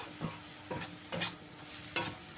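Besan (gram flour) being stirred in a frying pan over a low gas flame: soft scraping strokes of a spoon against the pan, about four separate sweeps over a faint sizzling hiss, quiet and close.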